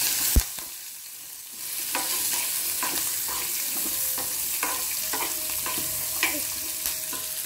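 Coconut and fried lentils are stirred in a pan over a low flame, with a steady sizzle and repeated scraping strokes of the spoon, plus a sharp knock near the start and no talk.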